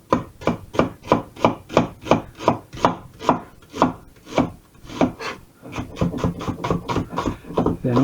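A knife chops food in quick, even strokes close up, each a crisp thud on a hard surface, the rhythm loosening and speeding into lighter, denser cuts toward the end.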